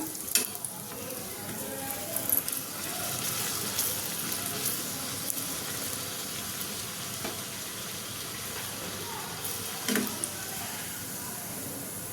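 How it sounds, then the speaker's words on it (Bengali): Rolled naan dough frying in hot oil over a lowered gas flame, a steady, dense sizzle and bubbling throughout with a few faint clinks. "এবার আমি নান একটু একটু করে ছেড়ে দেবো।"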